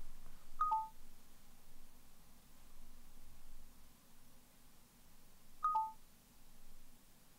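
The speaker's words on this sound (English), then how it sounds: "Oh, I thought I put my phone on silent." Two short electronic chirps from a mobile phone, each a quick two-tone beep, spaced about five seconds apart over quiet room hiss.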